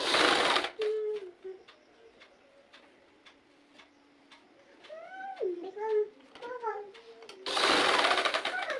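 A sewing machine stitches piping onto a small child's dress, running in loud bursts at the start and end with soft ticking and faint chirping in the quieter middle stretch.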